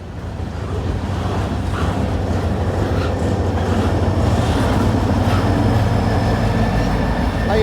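Train L585 shoves past on one leg of a wye, giving a loud, steady rolling rumble and rattle that fills the whole stretch without a break.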